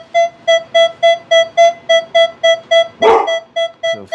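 A dog named Rocky barks in a quick, even series of about a dozen sharp, clear barks close by. The barks break off briefly around a louder burst of noise, then resume.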